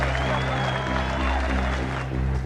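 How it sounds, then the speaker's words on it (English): A cricket crowd at Adelaide Oval applauds in a steady, dense wash of clapping, with a voice faintly audible over it. "great applause from the pro-Australian crowd"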